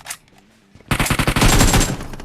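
Automatic gunfire in the mobile battle royale game PUBG Mobile, a loud, rapid burst of shots running for over a second after a short quiet gap, close and dense.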